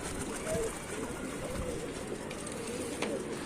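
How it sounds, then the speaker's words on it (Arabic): Shami pigeons cooing inside a loft, a low soft repeated cooing under steady room noise with faint scattered bird calls. "وكده كده بيبقى فرد حمام شامي"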